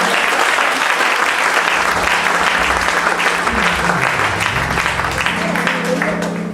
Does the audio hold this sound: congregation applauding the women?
yes